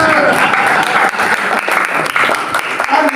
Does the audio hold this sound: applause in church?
yes